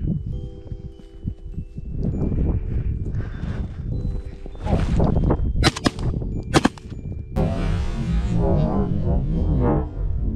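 A sharp gunshot from a hare hunt cracks out mid-scene over outdoor rustling and movement, followed by a bright burst of noise as things settle.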